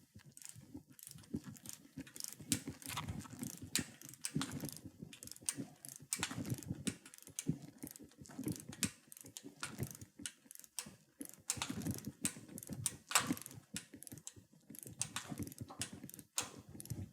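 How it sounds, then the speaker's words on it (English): A torque wrench ratchets while tightening king pin lock keys on a truck front axle, producing rapid, close clicking in irregular bursts with brief pauses, with no talking. "The lock keys should be torqued down 25 to 30 foot-pounds."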